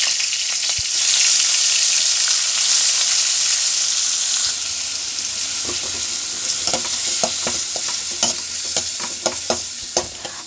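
Tomato with ground pepper, cumin and garlic sautéing in a pan, a loud continuous sizzle and frying hiss with scattered stirring clinks and taps that grow more frequent in the second half.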